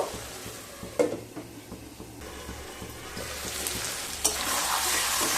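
Pointed gourd and prawn masala stir-fried in a pan over low-medium heat, a soft crackling sizzle with scattered spatula scrapes and knocks, swelling louder toward the end, close up with no talking.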